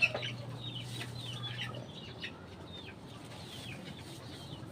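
A Boston Sweater cross Kelso gamecock rooster gives a series of soft, close clucks and short calls over a quiet outdoor background.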